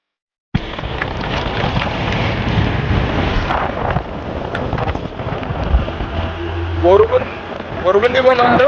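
Rain pelts down during a ride, a continuous rushing patter mixed with wind buffeting the microphone, loud and steady throughout, with faint tonal sounds rising near the end.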